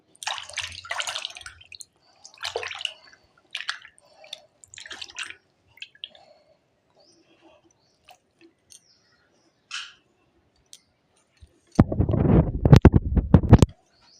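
Close splashing and dripping water in short bursts with quiet gaps, ending in a longer, louder rush of water being sloshed about as cut murrel fish are washed.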